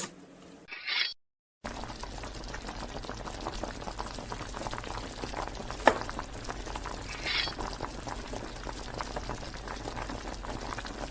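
Cabbage boils in a pot of water with a steady, dense bubbling and simmering that runs almost continuously at a moderate level, broken only by a brief gap near the start and one sharp click midway.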